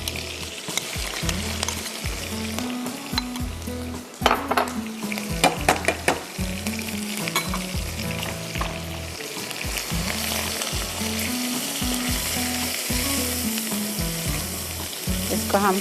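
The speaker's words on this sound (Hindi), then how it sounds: "इसको हम 5 मिनट फ्राई करेंगे जब तक कि चिकन गल जाए" Marinated chicken frying in a pan, a steady loud sizzle running throughout with a few brief clatters and stirring scrapes around the middle.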